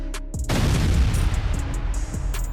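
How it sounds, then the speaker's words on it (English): A Russian tank in a column strikes a landmine, setting off a heavy explosion: a sudden deep boom followed by a long rumbling, crackling roar and a second thud, loud and close, with no talk. "The tank hits a mine and comes to a stop."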